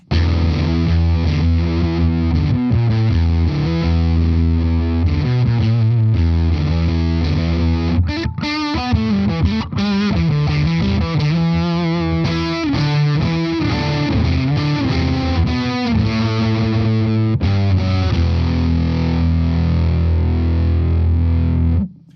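A heavily distorted electric guitar through a Glut Cheeks fuzz pedal with the gain boosted plays riffs and chords continuously, loud and up close, with low notes ringing out.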